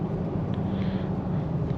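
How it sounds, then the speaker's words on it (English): Steady engine drone and tire rumble from inside a moving 2021 Toyota 4Runner SR5 Trail Edition, a continuous low hum. "you can hear the engine. You can hear the tire notes for sure."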